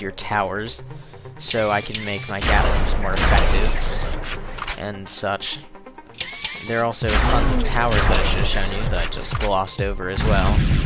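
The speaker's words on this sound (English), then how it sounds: "As you can hear from the roar, that is the sound of my Gatlings at work." Gatling towers firing in the video game Sanctum, a dense roaring stream of rapid gunfire and mechanical clatter under someone talking throughout, loud and continuous with brief dips.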